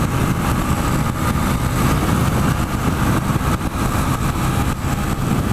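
A motorbike engine drones steadily while riding along a bumpy road, a continuous loud rumble mixed with wind noise and road buffeting, with no talking.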